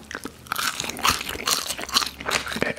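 Close crunching bites into McDonald's apple slices, with repeated sharp crisp crunches and chewing in an uneven rhythm, loud and near.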